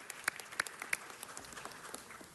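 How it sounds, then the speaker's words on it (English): Brief, faint applause at a city council meeting, a scattering of claps with a few sharper hits early on, quickly thinning out in a large room. "let's give them a round of applause."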